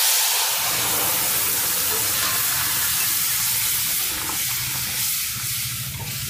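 Hot mustard seeds and dried red chillies poured as a tempering into a sour raw mango dish cooked with small crabs, giving a loud sudden sizzle and hiss that gradually softens over several seconds.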